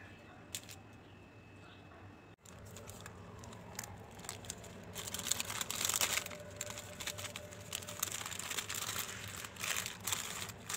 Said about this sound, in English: Peel off the sealer and just seal this bag nicely.